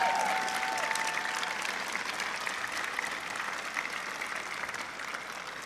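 An audience at a university convocation ceremony in a hall applauds continuously, a dense, steady wash of many hands clapping that fades slightly toward the end.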